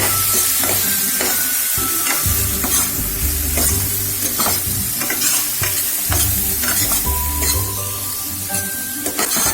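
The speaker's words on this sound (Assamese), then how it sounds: "আৰু এতিয়া এইখিনি অকণমান ভাজি ল'ম মই" Kidney beans and potatoes fry loudly in a pan with spices, a constant sizzle punctuated by repeated scraping stirs of a spoon at an irregular rhythm.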